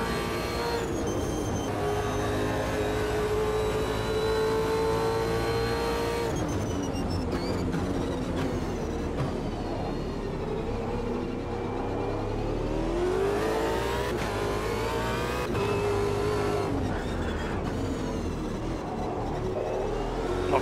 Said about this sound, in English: The sound of this car is also absolutely epic.